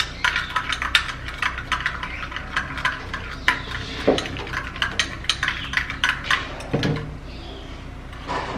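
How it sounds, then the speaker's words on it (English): A homemade skin-care mixture is stirred in a small bowl, a series of light scraping clinks and taps at close range, fairly quiet and irregular, with no talk. "we'll give it a little stir, just like this"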